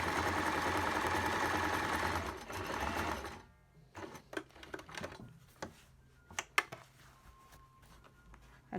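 A sewing machine stitches a cloth mask with a filter pocket, running in a fast steady whir for a few seconds, then stopping, followed by scattered clicks and handling sounds.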